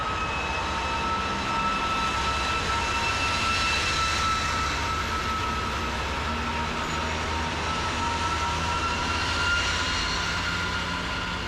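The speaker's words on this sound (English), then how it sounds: "This is a 2TE116UM, nicknamed the Boeing, a reference to how it sounds like a jet engine while it moves off." A 2TE116UM diesel locomotive pulls away on Mongolian Railway, giving off a steady, loud jet-like whine with a tonal howl over a continuous engine roar, heard alone and sustained throughout.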